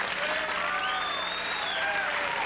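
Studio audience applause fills the space for a few seconds, a dense steady wash of many hands clapping, with faint whistles and cheers rising above it at moderate level.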